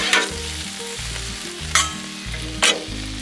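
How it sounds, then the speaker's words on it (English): Bacon sizzles and fries on a Blackstone griddle in a close, steady crackle, punctuated by a few sharp scraping or stirring bursts. "Now that bacon's going"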